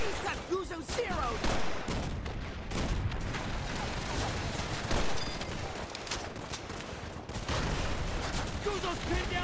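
Machine gun fire in Call of Duty 3, with sustained rattling bursts and scattered gunshots and booms through a war-game battle, and soldiers' voices talking over the gunfire throughout.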